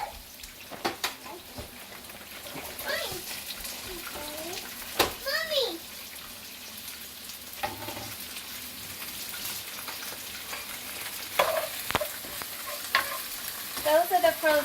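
Frozen bag peppers hitting a pan with garlic and sizzling into a hiss, with stirring clatter and someone talking over it.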